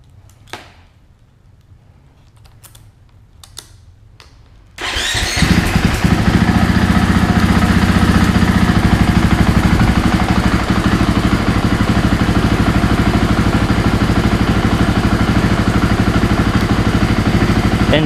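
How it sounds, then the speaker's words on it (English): After a few quiet seconds of light clicks, an FE 501s dirt bike engine fires up abruptly and keeps running loudly and steadily close by for the rest of the clip, with no talking. "I should be able to start the bike without doing the rear and make sure this all works"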